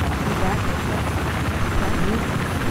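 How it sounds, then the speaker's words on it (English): Military helicopter in the Battlefield 4 game on the Shanghai map, its rotor and engine roaring loud and steady throughout, with a player's voice faintly mixed in. "I might crash the chopper"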